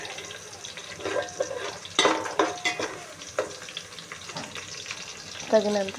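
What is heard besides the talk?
deep frying in a pot for mutton biryani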